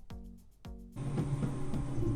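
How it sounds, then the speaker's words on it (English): A failing 3D printer print head clicks and knocks as filament slips in the extruder, two sharp thumps followed by a rough grinding rattle with repeated ticks. "This is the sound of a print head slipping."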